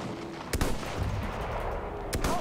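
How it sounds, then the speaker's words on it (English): Gunfire in the Battlefield 1 game, with two sharp loud shots about a second and a half apart over a constant dense battlefield rumble. "I'm shooting these guys in the head and I'm not getting nothing, dude."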